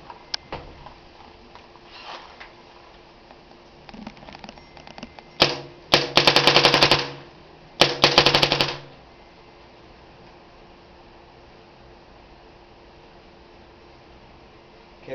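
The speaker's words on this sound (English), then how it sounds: "And then I'm going to fire it for you right now." A 2007 Ego Etek paintball marker fires two loud bursts of rapid shots, each lasting about a second, separated by a short pause, set against quiet background ambience.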